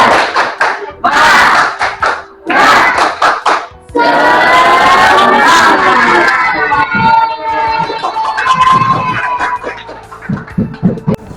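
Indonesian secondary-school classroom students perform a rhythmic group clap chant, with loud bursts of voices calling out together, then a long stretch of sustained chanting punctuated by sharp hand claps near the end.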